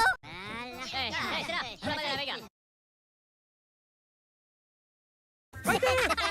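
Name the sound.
goose honking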